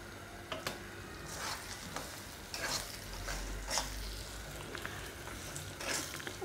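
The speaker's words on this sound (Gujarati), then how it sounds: "ધીમા ધીમા ગેસે આપણે આને શેકવાનો છે।" Semolina roasting in desi ghee over a low flame, a soft steady sizzle with intermittent scraping stirs from a spoon in the pan, close and moderately quiet, with no one talking.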